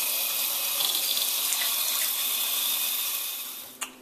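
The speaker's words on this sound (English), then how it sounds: "And now we're just gonna top that up with water." Tap water runs steadily into a pot of corn on the cob being topped up for boiling, a continuous close splashing rush that stops abruptly near the end with a small clink.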